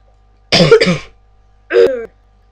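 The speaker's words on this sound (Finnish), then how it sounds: "Yskä." A person coughs twice nearby, loud and sharp: a doubled cough burst, a pause of about a second, then a single cough, against near silence.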